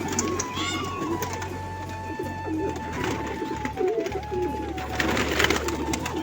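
Pigeons coo steadily in a close, crowded chorus inside a loft, with a low hum underneath and occasional human voices in the background.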